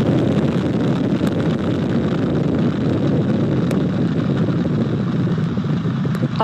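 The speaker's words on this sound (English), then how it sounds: "All four RS-25 engines on the core stage and two solid rocket boosters now propelling the vehicle at 128 miles per hour." The Artemis 1 rocket, driven by four RS-25 core-stage engines and two solid rocket boosters, roars at launch in a dense, continuous, loud rumble with crackling bursts, heard at a distance without talk.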